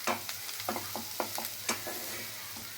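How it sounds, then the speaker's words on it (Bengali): Garlic frying in butter and refined oil, a steady sizzle with repeated scraping stirs of a spoon in the pan, close and fairly loud, with no talking. "একটু লাল লাল করে ভেজে নেব।"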